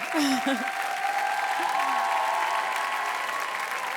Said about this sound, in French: je vous laisse profiter de ces applaudissements